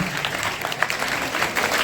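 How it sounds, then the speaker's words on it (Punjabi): A school audience claps steadily in thanks at a school magazine gathering, a dense, continuous wash of many hands that is fairly loud and close throughout. "ਅਸੀਂ ਦਾ ਤਾਲੀ ਦੇ ਨਾਲ ਉਹਨਾਂ ਦਾ ਧੰਨਵਾਦ ਕਰਦੇ ਹਾਂ"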